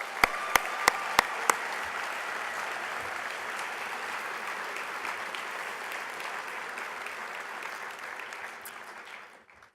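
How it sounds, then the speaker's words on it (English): Banquet attendees at Natcon give a sustained round of applause that fills the hall, starting with a few sharp individual claps and fading out at the end. "So to all Natcon attendees, give yourselves one last round of applause."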